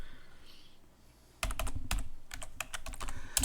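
Quick keystrokes on a computer keyboard entering a terminal command, a dense run of close, crisp clicks after a brief quiet start, with no voices.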